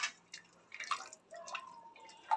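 Water drips and trickles in short splashes while being poured into a pot of buttermilk sambar, a few faint separate pours with quiet gaps between them.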